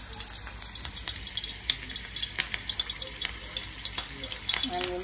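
Six slit chilies fry in hot oil for serving with moong dal kachori, a steady loud sizzle with crackling pops throughout, close by and without talk.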